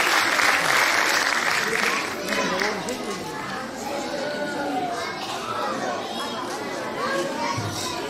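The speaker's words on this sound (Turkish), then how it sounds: "Kuvvetli alkış değerler eğitimi için iyi seyirler diliyoruz" An audience claps loudly at a kindergarten year-end show. The applause is strongest at the start and then gives way to the lively chatter and voices of children moving about.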